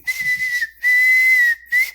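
A person whistles a long, steady, fairly loud tone in three held stretches with short breaks between them, close by and alone.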